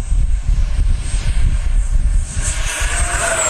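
An FMS Rafale RC jet with an afterburner setup and new nozzles makes a fast pass, its loud rushing roar rising into a whining high-pitched sweep as it speeds by outdoors.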